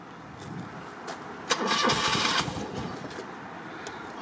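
A stone-cold 1985 BMW R80RT motorcycle engine is cranked and fires, with a burst of starter and engine noise around the middle before settling to a steady running hum at close range.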